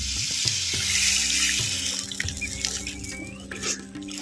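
Tamarind water, lemon-sized tamarind dissolved in a quarter litre of water, is poured into fried masala for a small-onion kara kuzhambu, giving a steady close splashing pour with a few knocks, alone.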